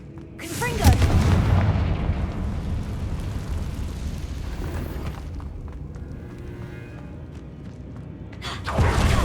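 A Confringo blasting spell explodes in Hogwarts Legacy, a loud booming blast near the start that decays into a long rumbling tail, with another burst building at the very end.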